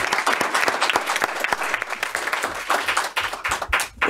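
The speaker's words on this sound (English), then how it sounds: "That needs a round of applause right now." A room at a Murray City meeting breaks into applause for a 25-year employee, close, lively clapping from a modest crowd sustained the whole time.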